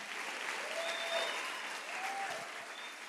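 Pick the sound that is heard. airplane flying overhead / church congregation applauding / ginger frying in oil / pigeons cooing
church congregation applauding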